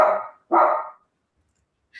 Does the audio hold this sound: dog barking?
yes